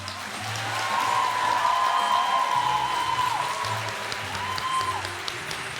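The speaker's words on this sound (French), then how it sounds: "veuillez accueillir sur scène sous un tonnerre d'applaudissements" Thunderous applause from the audience of a student musical theatre production fills the hall as the crew are called to the stage, a dense, steady roar of clapping held at full strength throughout, with a faint sustained tone beneath.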